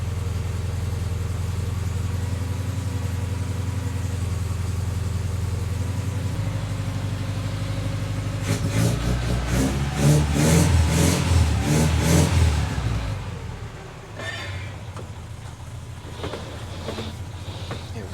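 A mini truck engine, running without its choke while warming up, idles steadily and then revs hard in a loud, close burst before dropping back to a rough idle.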